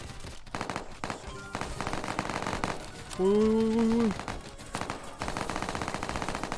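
Rapid automatic gunfire in a Roblox zombie school survival game, loud close bursts of quick shots running through the whole stretch, broken briefly by a sustained electronic tone.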